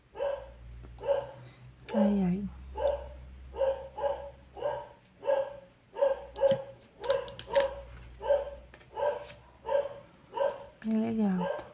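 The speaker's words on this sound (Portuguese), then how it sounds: "Perdão aí pelos latidos." A dog barks repeatedly in a steady, evenly spaced run of sharp, close barks, with a few whimpers and a brief voice in between, inside a room.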